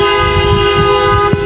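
Loud sustained car horns and sirens hold one steady tone in İzmir during a 10 November Atatürk remembrance silence, with a brief extra honk near the end and no speech.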